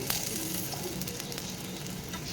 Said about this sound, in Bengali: বাকিগুলোকেও ভেজে নিচ্ছি